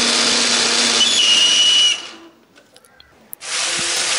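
A kitchen blender grinds a spice paste of chilies, turmeric, pepper and coriander with a little water, running loud and steady for about two seconds, stopping, then starting up again.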